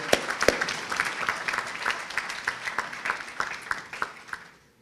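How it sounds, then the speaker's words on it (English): Audience applause for the Prime Minister at an economic summit, a sustained crowd with sharp individual claps standing out, tapering off at the end. "Ladies and gentlemen, another round of applause for the Prime Minister."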